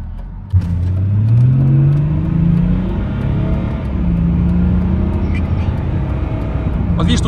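A car engine accelerating through third gear and losing power: a rising mid-pitched drone climbs steadily and then flattens into a strained, sustained hum, close and loud.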